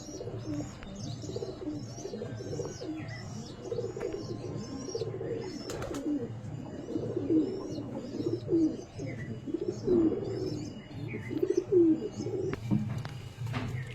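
Pigeons coo steadily and close, with soft flutters and chirps scattered through, layered over a low continuous murmur of birds.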